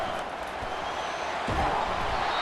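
Stadium crowd roar in EA Sports College Football 25, a steady, loud wash of fans in a tough road environment that swells slightly partway through, with faint thumps underneath.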